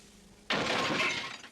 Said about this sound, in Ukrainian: Розбилося скло чи пляшка.